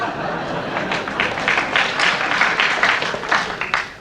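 Audience applause fills the hall at the National Film Theatre in London during an on-stage interview with Alfred Hitchcock: a dense, steady wash of clapping that swells slightly midway and lasts about four seconds before tapering off.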